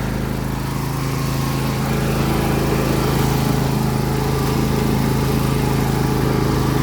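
A John Deere L118 lawn tractor engine runs steadily nearby, a loud, continuous mower-style drone with a low hum that holds constant throughout.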